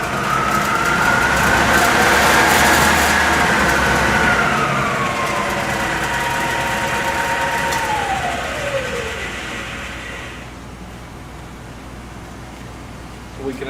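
A drill press hums and whines while running, its pitch rising and then sliding downward as the speed is changed, loud at first and fading toward a quieter steady whir.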